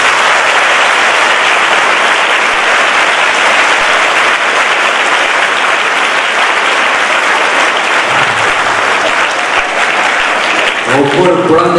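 Large audience at a public talk by actor Vivek bursting into loud, sustained applause that holds steady for about ten seconds, with a voice coming in near the end.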